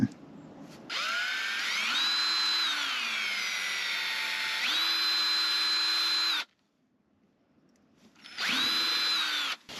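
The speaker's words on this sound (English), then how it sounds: "So we're going to drill out here" An electric drill bores holes into a Ford Transit van panel in two loud, whining bursts that spin up and hold steady, separated by a short silence.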